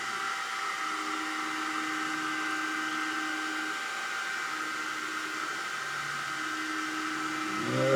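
An xTool D1 laser engraver runs a framing pass with its cylinder attachment, giving a steady close whir of fan and motor with faint tonal hums as the head travels, then a brief rise in noise near the end.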